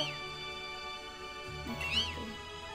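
A cat in the video game Pokémon Shield meows a couple of times in short, high, wavering calls over a steady electronic background hum.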